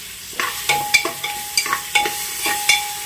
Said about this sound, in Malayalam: ഇതും കൂടെ നന്നായിട്ടൊന്ന് വഴറ്റിയെടുക്കാം